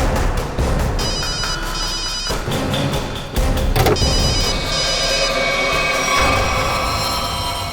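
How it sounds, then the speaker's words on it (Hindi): A mobile phone rings repeatedly in bursts over a loud, busy background during a search scene in a CID police drama, with no one speaking over it. "रिंग तो बज रही है।"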